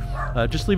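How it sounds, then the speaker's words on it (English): A pet dog barks a couple of short times nearby while someone keeps talking over it. "that's my dog barking, by the way"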